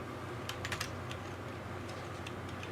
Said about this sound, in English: Everybody's going and typing it in